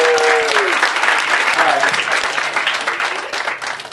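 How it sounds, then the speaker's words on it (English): Wedding guests at a reception in Munhall, Pennsylvania applaud the bride and groom with loud, sustained clapping from a large group, while a voice briefly rises over it at the start. "we want to give a big round of applause for the bride and groom here"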